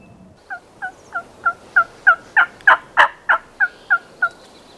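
A wild turkey gobbles repeatedly in spring woods, a rapid string of about a dozen sharp gobbling notes that swell louder in the middle and then taper off, heard at moderate distance with no talking.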